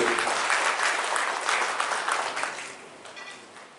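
Audience applause at an international human rights peace conference in Jaffna, a dense, steady clapping from a full hall that slowly fades toward the end.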